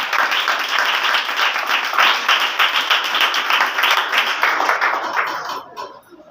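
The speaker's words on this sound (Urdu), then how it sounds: "بھرپور تالیوں کے ساتھ." A congregation at a Wednesday church meeting claps loudly and steadily, a dense wash of applause that holds for several seconds before quickly dying away at the end.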